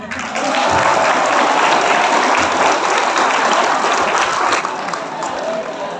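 An audience at a Maulid Nabi sermon gives steady, dense applause that stays loud and close for several seconds and then eases slightly at the end.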